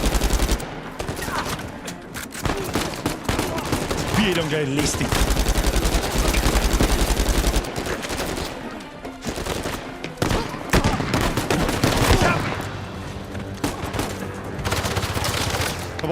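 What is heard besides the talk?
gunfire in video game Uncharted 4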